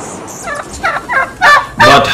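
Turkeys gobble several times in a row, the rapid warbling calls growing louder and closer, with a quieter bird call just before them.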